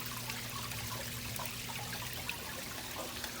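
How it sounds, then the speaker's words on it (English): Water flowing over a rock water wall, a steady close hiss and trickle that stays even throughout, with a low hum running beneath it. "You wouldn't think that water hugging rock would make this much sound"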